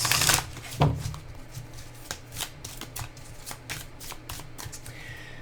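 A deck of NYC Tarot cards shuffled up close: an initial loud riffle, then a steady run of quick, crisp card slaps and flicks, heard on its own without speech.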